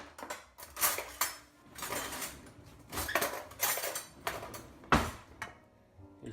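A spoon scooping sauerkraut into a wide-mouth glass jar, with a run of close clinks and scrapes of metal on glass in an irregular rhythm, no voices.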